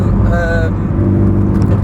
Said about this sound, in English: Sorry, but busy junction.